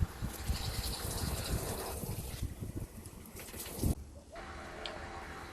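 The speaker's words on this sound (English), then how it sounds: "After draining all the dirty water," Dirty water gushing and draining out of a used glass aquarium tank, a steady rushing flow that cuts off abruptly near the end, close and fairly quiet.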